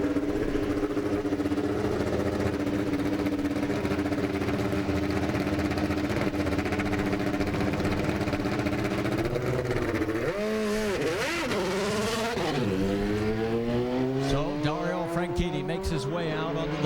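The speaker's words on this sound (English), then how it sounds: "We're getting ready to start engines." IndyCar race car engines start and idle loudly and steadily at Indianapolis Motor Speedway on 2006 Indy 500 Pole Day, then rev and rise in pitch near the end, with talk faintly beneath the engine noise.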